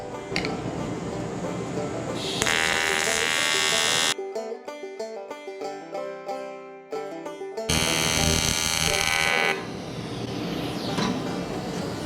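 TIG welding on aluminum with a Blue Demon flexible tungsten electrode: a steady, loud electric buzz with a harsh hiss. It drops out for about four seconds in the middle, then resumes.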